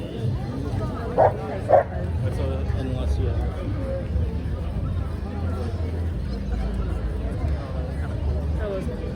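Two quick dog barks ring out early at an outdoor vintage event in a Japan town, set against a steady murmur of crowd chatter and talking that continues throughout.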